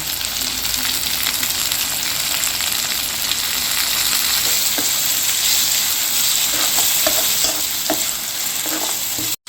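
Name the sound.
tomatoes and curry leaves sautéing in pan for dry fish gravy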